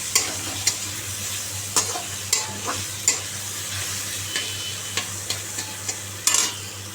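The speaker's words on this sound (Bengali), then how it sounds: "এই হচ্ছে কুমড়ো ভাজা হয়ে গেল" Pumpkin slices fry in a pan under a constant sizzle, punctuated by about a dozen sharp clinks and scrapes of a utensil stirring at irregular intervals.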